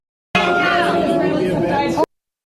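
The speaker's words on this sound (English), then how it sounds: "she's greeted with heckles and boos and sit-downs" Crowd at a Biden speech erupting in loud, dense heckling and booing, a continuous roar of overlapping voices at steady volume for under two seconds before cutting off abruptly.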